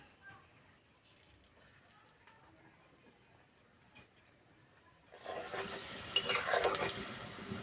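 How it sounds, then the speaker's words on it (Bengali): Chhana (cottage cheese) pakoras frying in oil: after a quiet stretch with faint voices, a bright, close sizzle swells up and keeps crackling to the end. "পকোড়াগুলো ভাজা হচ্ছে"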